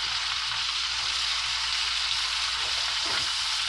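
A whole head of onions frying in a pan for a steak dinner, a dense, even sizzle that holds steady and fairly loud from start to finish, with no other sounds over it.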